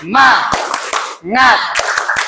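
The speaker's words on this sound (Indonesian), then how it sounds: "Tepuk semangat." A classroom group shouts a word together twice in a rhythmic spirit chant, each shout followed by a few sharp, close hand claps.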